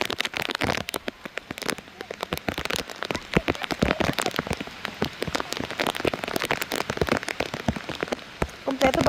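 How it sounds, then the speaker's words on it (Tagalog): Rain falling steadily on surfaces outside a cabin, a dense close patter of drops continuing throughout without talk. "Because it's raining."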